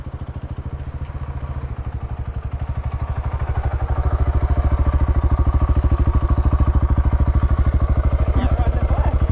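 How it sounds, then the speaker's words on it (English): A dirt bike engine thumps in a rapid, steady pulsing rhythm as it rides on a beach, loud and close throughout, building slightly in intensity. "It's pretty cool riding a dirt bike on the beach."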